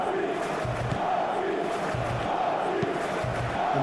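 Stadium crowd noise from an eFootball PES match, Switzerland against Algeria in a simulated World Cup game: a steady, dense roar of spectators that holds level throughout with chanting swells, all under commentary.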